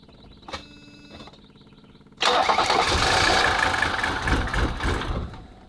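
An old Mercedes car engine cranks with a whirring starter, then catches and roars into a loud, rough idle that carries on steadily, heard up close.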